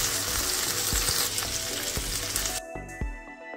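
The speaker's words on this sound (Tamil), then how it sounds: "கழுவி வச்சிருக்கிற வெள்ளரையையும் வெட்டி வச்சிருக்கிற ஒனியனையும் சேர்த்து வதக்கி எடுக்கணும்." Vallarai leaves and chopped onion sauté in sesame oil, a loud crackling sizzle with rhythmic spatula strokes against the pan that drops sharply to a quieter hiss near the end.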